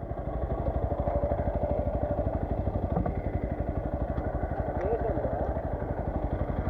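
Motorcycle ridden hard at night, engine running steadily with a fast pulsing throttle beat and clattering rumble throughout, close and loud, with speech-like noise mixed in.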